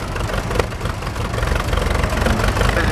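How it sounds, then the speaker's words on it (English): A Caterpillar 22 crawler tractor's diesel engine chugs at a steady, knocking idle at an old-time vintage rally, close and loud with outdoor background noise. "Coming in front of me now is another Caterpillar."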